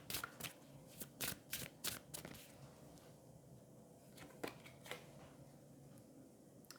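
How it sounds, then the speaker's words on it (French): Oracle cards being shuffled and drawn from a deck, with a run of crisp riffling card bursts early on, then quieter scattered flicks and slides of cards over a low background hum. "Je vais prendre une autre carte"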